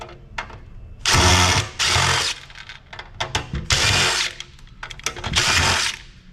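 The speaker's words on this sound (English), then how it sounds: "the drill will fit, the driver will fit down in there enough for me to unscrew them" A drill driver unscrews Loctite-secured screws from a Peavey Heavy Weight amplifier, giving several loud, close whirring bursts that start and stop with short pauses and clicks between them.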